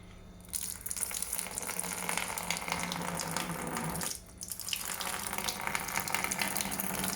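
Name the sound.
witbier wort poured through strainer into fermenter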